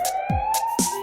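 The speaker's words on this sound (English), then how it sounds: "It's a siren, that's what it is." A toy fire truck siren, activated by pressing buttons, gives a high, steady electronic tone cut by short chirping sweeps in a children's nursery-rhyme setting.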